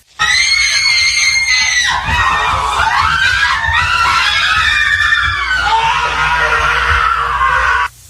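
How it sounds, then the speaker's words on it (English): Movie characters scream and yell loudly and continuously, shrill overlapping shrieks filling the scene with barely a pause. "the scenes that just had characters running around screaming"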